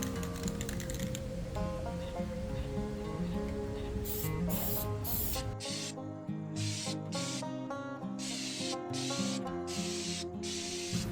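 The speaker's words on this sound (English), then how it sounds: "I like to concentrate spraying these first to get good coverage" Spray paint hisses over Bronco jerry can holder parts in steady bursts with short breaks in the second half, close and fairly loud, with tonal background sound underneath.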